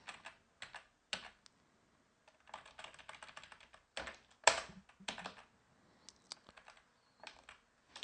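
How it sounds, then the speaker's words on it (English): Fingers tap on a computer keyboard in irregular bursts of crisp keystrokes, close and quiet, with short pauses between runs and one louder key strike partway through. "So if I type in the password."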